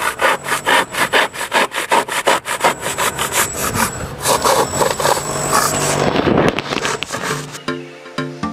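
Rapid back-and-forth sawing through EPS foam molding, cut at a 45-degree angle, loud and close with a steady rasping rhythm that slows and stops near the end.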